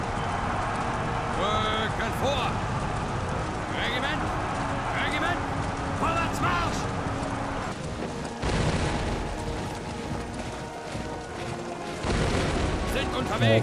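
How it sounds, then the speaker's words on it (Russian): Musket volleys crack and boom across a battlefield in the Napoleonic strategy game Imperial Glory, heavy and continuous with bursts of fire, under someone talking throughout. "Первого ряда уже начали стрелять."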